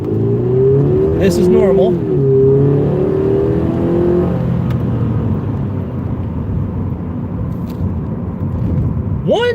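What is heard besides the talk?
car engine revving in cold weather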